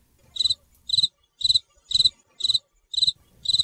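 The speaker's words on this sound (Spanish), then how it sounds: "no se han extinguido los grillos todavía" Crickets chirp in a close, even rhythm, with seven short trilled bursts evenly spaced about half a second apart and quiet silence between them. There is no talking.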